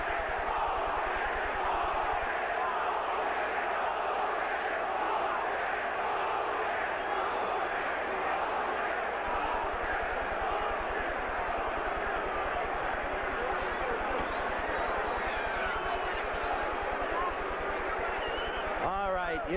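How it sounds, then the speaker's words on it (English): Roaring boxing arena crowd at the Larry Holmes vs Renaldo Snipes heavyweight bout, a dense continuous wall of cheering and shouting that holds steady throughout, with a commentator's voice faintly threaded underneath. "You've heard the crowd."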